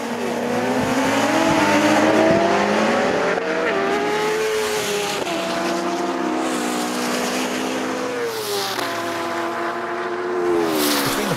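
Loud, sustained engine roar from an Ariel Atom V8, a 600bhp Citroen DS3 rallycross car and a BMW HP4 superbike in a standing quarter-mile drag race, with revs rising and shifting through gears and brief tyre squeal.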